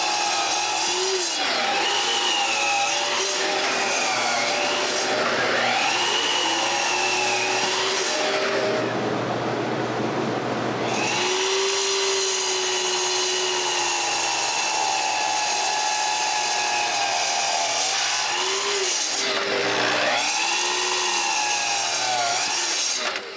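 Power saw cutting lengths of wood for a closed bookcase's frames, a loud sustained whine that rises and falls as the blade bites, with a brief pause midway before cutting resumes.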